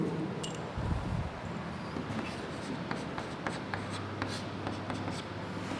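Pen or pencil writes out a maths fraction question on paper, soft continuous scratching strokes with small taps and rustles, fairly quiet and close, with no talking over it.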